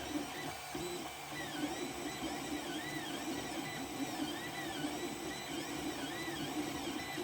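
A 3D printer runs at a faster speed while printing a Santa figure, giving a steady mechanical hum with repeated rising and falling stepper-motor whines, close and continuous with no talk.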